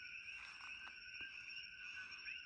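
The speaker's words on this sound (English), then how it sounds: "with the sun going down and starting to get dark, the frogs wake up, as you can hear" Frogs call at dusk in a steady, layered chorus of high trills, faint and distant, with a few soft croaks and clicks rising briefly over it.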